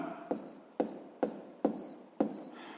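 Writing out a math calculation by hand, five evenly spaced, quiet scratchy strokes with short pauses between them, close up and alone.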